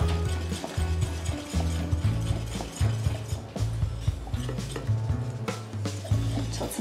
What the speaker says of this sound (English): But you're gonna mix this up really, really, really good.